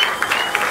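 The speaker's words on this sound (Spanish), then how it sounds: "Les pido un aplauso especial para ellos." A short burst of clapping from a concert audience at a live album launch, scattered claps rising and falling.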